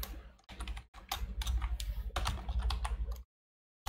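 Rapid, irregular clatter of keys on a computer keyboard while code is typed, close and steady for about three seconds before stopping abruptly.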